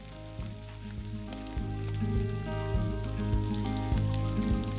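Katsu-style catfish fillets frying in hot oil give off a steady, close sizzle that swells slightly partway through, with a low tonal hum running underneath.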